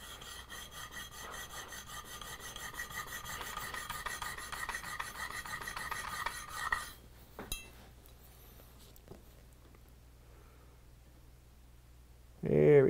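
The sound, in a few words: sharpening a blade on a sharpening plate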